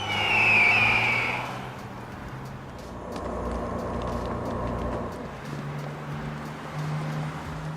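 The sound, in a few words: bus driving on narrow Andes mountain road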